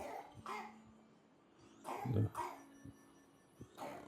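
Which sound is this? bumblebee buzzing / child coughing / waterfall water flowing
child coughing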